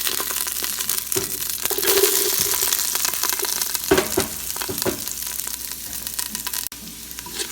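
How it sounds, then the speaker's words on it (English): Steady sizzling of onions frying in hot oil, with occasional scraping and stirring clatter over a continuous crackle. "So my onions mixing, frying, and I'm gonna add garlic."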